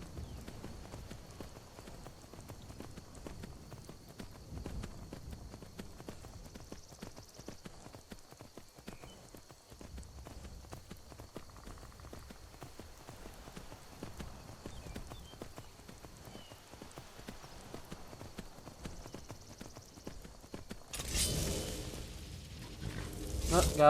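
Horse hooves clip-clop steadily and faintly while riding in the video game Skyrim, a soft continuous patter under a low ambient hum, ending in a louder rumble.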